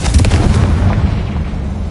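Confringo blasting spell exploding in the Hogwarts Legacy video game: a loud, deep rumbling boom that fills the whole moment and sustains, slowly easing off without fully fading.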